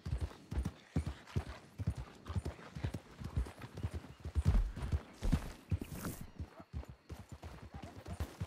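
Horse hooves in a Wild West roleplay video game clop rapidly and irregularly at close range, a busy trotting rhythm with a brief whinny-like burst partway through.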